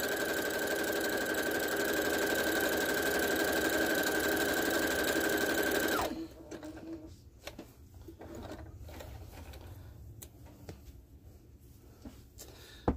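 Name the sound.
sewing machine stitching applique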